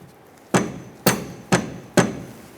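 A hammer lightly taps a rear upper control arm on a 2004-2009 Mazda 3 during suspension work, four sharp metallic knocks spaced about half a second apart, close and clear with no talking.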